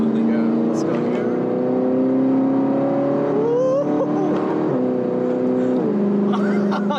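An Audi R8 engine with S-Tronic transmission hums and climbs in pitch as it accelerates, shifting gears a couple of times, while people talk over it close by.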